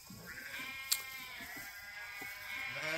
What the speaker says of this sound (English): We have some really hardy goats here.